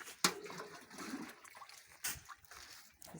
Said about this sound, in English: just adding more water.